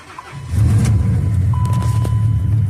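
An old truck's engine turns over and catches, then settles into a steady, loud low rumble at idle, close by, with no talk.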